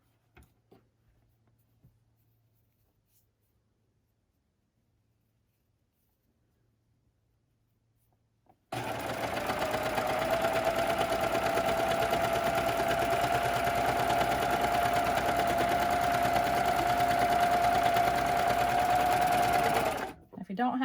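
A sewing machine stitches fabric for a newborn-sized elf outfit, starting after a few quiet clicks and then running as one loud, fast, continuous whirring hum for about eleven seconds before stopping abruptly.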